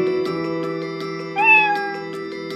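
A single drawn-out meow rises over steady electronic game music with a droning tone and faint rhythmic beats, from the video game Skul: The Hero Slayer.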